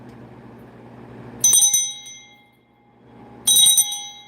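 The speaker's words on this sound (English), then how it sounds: "I'm gonna ring this bell" A handheld bell rung twice, each a bright metallic ding with a ringing tail, two seconds apart, over a quiet low room hum with no one speaking.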